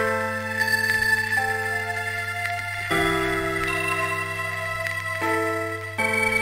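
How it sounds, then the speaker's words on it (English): Electronic sample in Cubase given 12-bit reduction, a steady synthetic tone with sustained high ringing overtones and several abrupt pitch changes, played alone with no talk. "you hear some kind of high ringing that comes from the 12-bit reduction"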